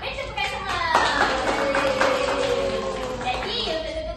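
Students in an Islamic education classroom clap together, a steady round of applause with people talking over it.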